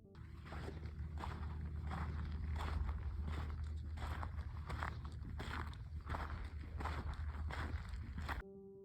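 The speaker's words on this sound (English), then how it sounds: "Loud and clear footsteps on the desert sand." Footsteps crunching on desert sand at night, a steady run of soft, evenly spaced treads heard close over a constant rough background wash throughout.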